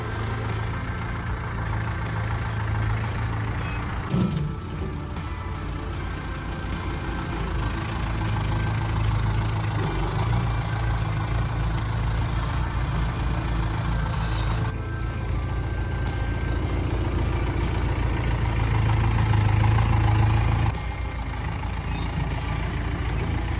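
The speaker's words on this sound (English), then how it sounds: "let's get the tractor and push this in and call it a day" A loud tractor engine idles with a steady low rumble, swelling and dipping in pitch a few times as it revs, close by throughout.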